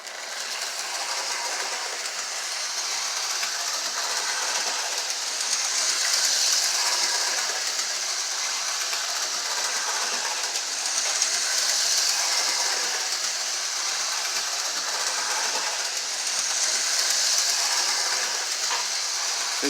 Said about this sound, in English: this Lionel, the General 440 number 3 steam locomotive with a W&A railroad tender. Just demonstrating how well they run.